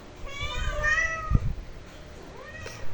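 Several cats meow with drawn-out, wavering cries near the microphone, a short thump in the middle and another cry near the end, suggesting a squabble among household cats.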